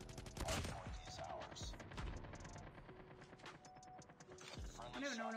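Rapid automatic gunfire in Call of Duty Mobile, dense bursts of shots crackling throughout, mixed with game effects and a player talking over it.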